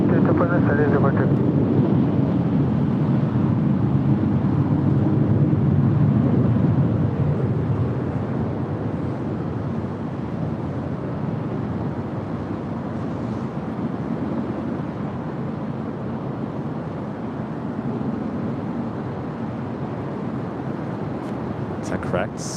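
A Saudia Boeing 777 airliner at LAX gives a broad, steady jet rumble with wind buffeting the microphone, slowly easing over time, while people talk over it.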